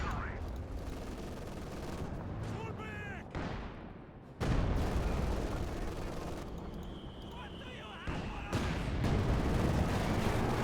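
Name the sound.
German machine gun fire in Company of Heroes 2 video game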